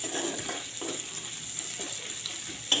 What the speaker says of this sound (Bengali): রসুন আদাটাকে একটু ভেজে নেবো একটু লাল লাল করে।